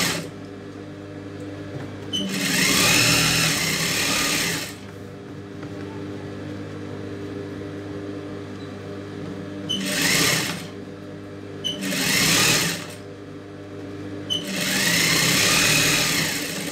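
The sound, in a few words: sewing machine stitching a blouse sleeve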